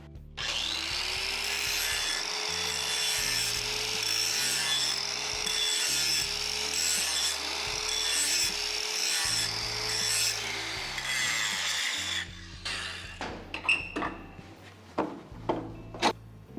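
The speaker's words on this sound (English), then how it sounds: "What you saw me doing with the flange was touching it up, making sure that there is no weld around the outside." A steel flange neck clamped in a vise has its bevel touched up with a rhythmic, rasping stroke repeated steadily at close range, then breaks into scattered metallic knocks and clanks near the end.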